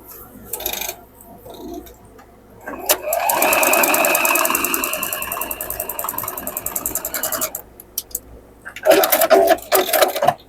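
A sewing machine stitches a quilt block piece in a fast rattling run of several seconds, close by, with quieter handling clicks before and after and a short second burst near the end.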